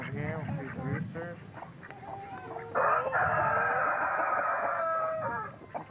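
A rooster crows loudly and nearby, a long drawn-out call, after some clucking and chatter from people talking in the background.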